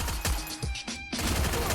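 A loud rapid burst of gunfire rattles in a shooting video game, a headshot taken at an enemy inside a house, followed by a few more spaced shots.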